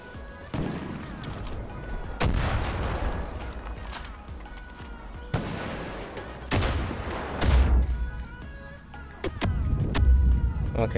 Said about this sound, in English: Well, apparently everybody's using explosives.